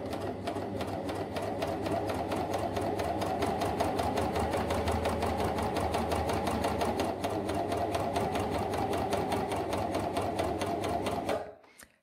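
A Janome 2000 CPX coverstitch machine sews a three-thread hem in fabric, its needles hammering in a fast, steady, loud rhythm for about eleven seconds before stopping abruptly.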